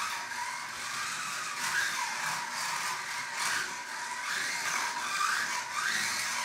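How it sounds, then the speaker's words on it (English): A Traxxas Revo RC car runs steadily, giving a continuous whirring motor and drivetrain hiss with small surges in speed. The sound stays moderately loud from start to finish, and no one speaks. "you're going to hear how quiet these cars are and what I'm talking about"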